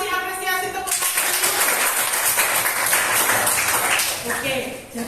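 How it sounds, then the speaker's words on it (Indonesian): A school class claps together in a classroom. The burst of applause starts abruptly after a brief moment and holds as a dense, loud patter for several seconds before tapering off. "Coba kasih apresiasi tepuk tangan."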